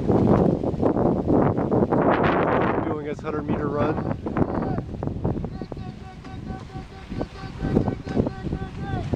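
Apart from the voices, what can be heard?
wind blowing by the water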